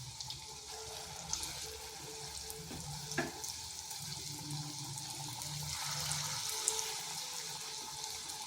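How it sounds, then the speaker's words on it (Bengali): Semolina pakoras crackle in hot oil while being stirred and turned, a steady soft sizzle with occasional scrapes and clinks, moderately quiet and close. "এইভাবে নেড়ে চেড়ে এগুলোকে ভেজে নিয়েছি।"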